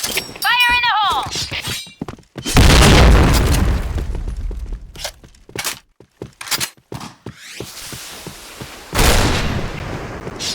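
A grenade goes off in the game Insurgency: Sandstorm with a loud, deep boom that rolls out for a second or two. Shouted callouts come before it, a whistling tone is heard early on, and sharp gunfire cracks follow.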